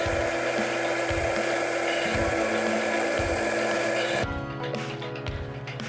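A high-speed blender purées a raw vegan pumpkin detox smoothie, its motor roaring loud and steady with rhythmic low thumps as the blades churn the thick mix, then the pitch shifts and eases slightly near the end.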